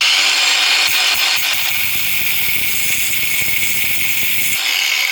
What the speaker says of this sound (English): Still got that sharp point on the end, so I'm just going to simply grind that off